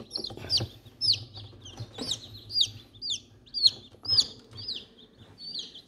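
Mother hen clucking among newly hatched chicks in a coop, with repeated high peeping chirps from the chicks over low soft hen clucks, close and steady throughout.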